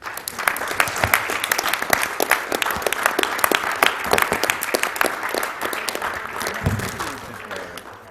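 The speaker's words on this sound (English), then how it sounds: "Let's give him another round of applause." A live event crowd gives sustained, dense applause that stays loud and continuous throughout.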